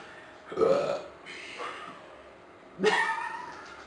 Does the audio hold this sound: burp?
yes